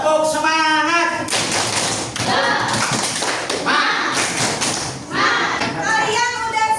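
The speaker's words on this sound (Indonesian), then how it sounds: "Tepuk semangat." Students clapping a rhythmic Indonesian spirit cheer in a classroom, bursts of dense hand claps in a steady pattern, loud and close, with voices chanting along.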